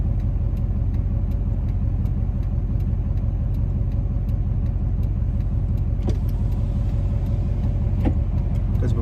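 Road traffic, heard as a steady low rumble of car engines, with the interior of a moving car carrying a continuous hum and faint ticking, plus a couple of light knocks near the end.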